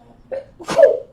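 A single sharp human sneeze comes close and loud after a short in-breath, in a quiet room.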